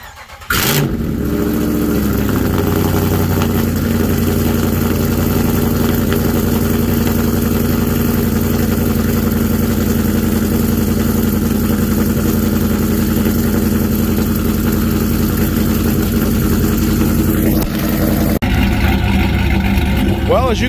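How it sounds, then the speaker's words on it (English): A Whipple supercharged 5.7 Ram pickup with an AWE exhaust fires up from cold with a short crank, then settles into a loud, rumbling, steady idle right next to the microphone, with wind noise over it. "We're going to get the final cold start of the AWE exhaust."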